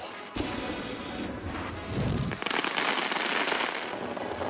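Fireworks burst and crackle in The Grand Tour Game video game, a dense continuous barrage of loud pops and crackles with a deep thump near the start, no talking.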